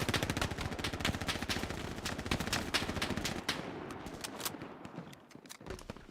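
Rapid machine-gun fire in the World War II shooter Hell Let Loose, a long run of sharp, evenly spaced shots that thins into scattered single cracks near the end.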